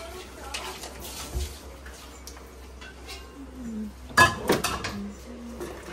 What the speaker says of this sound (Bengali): এই যে খুন্তি বের করছি তো